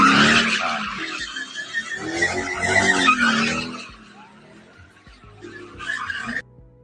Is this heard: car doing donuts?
yes